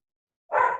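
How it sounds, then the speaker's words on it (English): A single dog bark in an office, one sharp bark arriving after a silent stretch, fairly loud and close. "I apologize for the dog barking."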